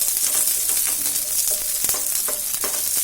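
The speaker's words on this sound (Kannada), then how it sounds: "ಹೀಗೆ ಎಣ್ಣೆಯಲ್ಲಿ ನೀಟಾಗಿ ಹಸಿಮೆಣಸಿನ ಕೂಡ ಹುರ್ಕೊಂಡ್ರೆ" Green chillies fry in hot oil for a methi chilli chicken, giving a steady, loud, close sizzle with occasional stirring scrapes and pops, and no talking.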